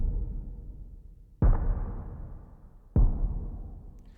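Two sparse, heavy drum hits, evenly spaced, each followed by a long plate-reverb tail from a Verb Suite BM7 model that fades slowly into near silence, played alone without other instruments.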